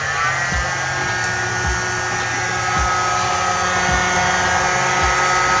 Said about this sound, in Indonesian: setelah diisi, disegel dengan menggunakan hair dryer.